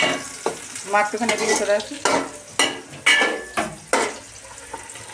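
Tomatoes frying in a pan for chutney crackle and sizzle while a spoon scrapes and stirs in sharp, irregular strokes, with someone speaking briefly over the cooking.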